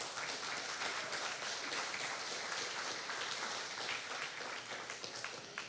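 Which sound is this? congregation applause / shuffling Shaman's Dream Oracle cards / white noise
congregation applause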